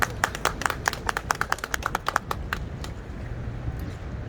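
Scattered applause from a small crowd at an outdoor press conference in front of Jeju City Hall, sharp separate claps that thin out and fade within a few seconds over steady background noise.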